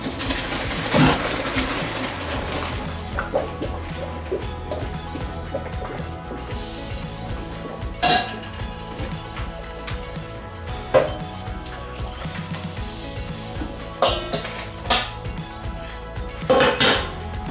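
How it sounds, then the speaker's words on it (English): Cooked homemade dumplings are drained through a strainer in the sink, with continuous running water and wet clatter plus sharp metallic knocks and clinks of pot and strainer throughout. "So I'm going to take these off now. Strain them through the sink."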